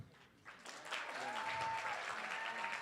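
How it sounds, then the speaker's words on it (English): An audience at a high school poetry slam bursts into applause, the clapping rising quickly from a quiet start into a steady, fairly loud round with a few whoops mixed in. "So let's think of who your favorite is, and clap loudest for them."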